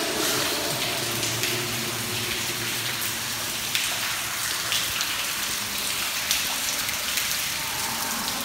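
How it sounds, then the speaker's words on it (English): Water pours and trickles steadily through the damp walls of the old Stumphouse Tunnel in Oconee State Park, a continuous close splashing wash like rain on hard surfaces, with no talk. "you can see this stuff's just pouring out. Leaking through the ground."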